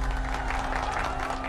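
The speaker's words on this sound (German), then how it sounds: "Schon bei seiner Ankunft in Fréjus jubeln ihm die Menschen zu." A crowd cheers and applauds as Napoleon arrives in Fréjus, a steady wash of clapping and voices under a low hum, continuous and fairly distant throughout.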